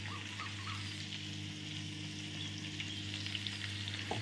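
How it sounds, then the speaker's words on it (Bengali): Cumin seeds and bay leaves sizzling and crackling steadily in hot oil, a continuous close frying hiss with occasional stirring, no talking. "জিরে আর তেজপাতা ফোড়ন দিয়েছি,"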